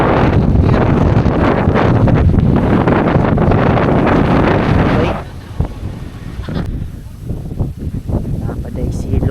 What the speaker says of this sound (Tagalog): Grabe hangin kay diri guys eh.